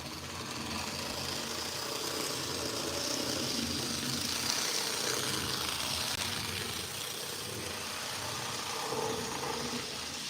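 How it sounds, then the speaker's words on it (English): A roughly 2000-era railway inspection car runs steadily for the whole stretch, its motor drone threaded with a dense, crunchy, gear-skipping chatter that holds at an even, fairly loud level with no talk. "it's always made that crunchy sound, like skipping gears"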